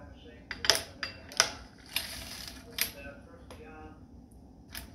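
An antique sock knitting machine, one of the rarest of its kind, is cranked by hand, giving off irregular metallic clicks and ticks of needles and gears close by over a low mechanical rattle.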